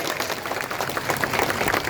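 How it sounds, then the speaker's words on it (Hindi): Crowd at a political rally applauding for the army, a continuous broad clapping wash from many people, steady and fairly loud over the whole stretch. "गर्व है हमारी सेना पे, गर्व है, ताली बजाओ सेना के।"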